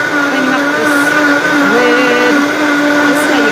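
A kitchen blender runs on high while making chocolate vanilla paste, giving a steady, loud, close motor whine with a slight pitch shift partway through and no gaps.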